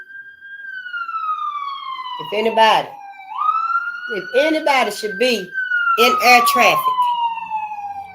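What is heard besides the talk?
ambulance siren passing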